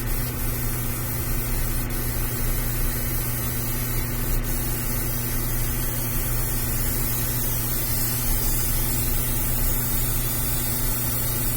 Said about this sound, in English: I'm just going to worry about getting the fur sprayed on this part.